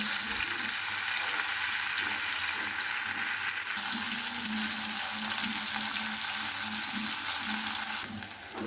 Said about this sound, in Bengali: গরম তেলে আমি মাছটা ভেজে নিচ্ছি